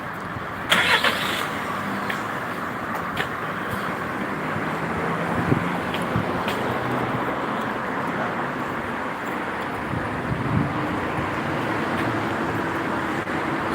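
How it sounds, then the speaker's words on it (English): Road traffic moves around a roundabout in an English town, a continuous rumble of car engines and tyre noise with occasional passing vehicles and some wind, heard from nearby. "we get the traffic backed up all the way from where I've just come."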